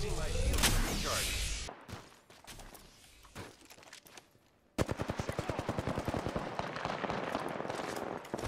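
Automatic gunfire in Apex Legends: a dense burst early on, then quieter scattered shots, then a loud rapid, evenly spaced volley close up, with faint voice in the background.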